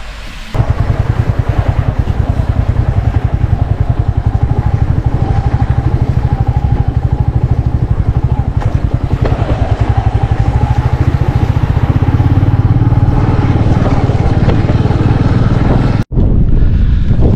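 A motorbike engine drones loud and close throughout, a steady low rumble with rough road jostling, then cuts off abruptly near the end as the bike stops at Phe Phe Falls in Meghalaya.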